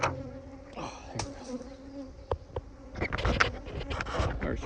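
A large honey bee colony hums with a steady buzz during a hive inspection, with individual bees droning close by. Knocks and scrapes from handling the hive come through and grow busier toward the end.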